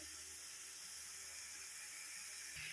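Cabbage dropped into a hot pan sets off a steady, close hiss of steam and sizzle that runs evenly throughout, with a small clatter near the end.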